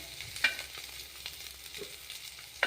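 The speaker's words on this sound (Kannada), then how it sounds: "ಇಷ್ಟು ಫ್ರೈ ಆದವಲ್ಲ, ಇದ್ರ ಜೊತೆಗೇ ನಾವು ಸ್ವಲ್ಪ 4 ಪೀಸು ಬೆಳ್ಳುಳ್ಳಿ ಹಾಕೋಣ" Vegetables fry in a pan with garlic, giving a soft, low sizzle beneath a few sharp utensil taps and scrapes. The sound is close but quiet, with no voices.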